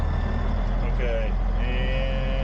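A D8 bulldozer shifted into reverse, its heavy diesel engine giving a steady, loud, close drone with a faint tonal whine rising mid-way.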